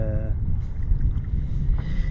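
Steady wind buffets the microphone with a low roar, constant and rough, with faint lapping water in the background.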